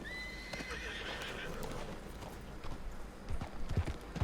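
Horse hooves clip-clop steadily in Red Dead roleplay, with a high whinny near the start and the footfalls growing louder and closer toward the end.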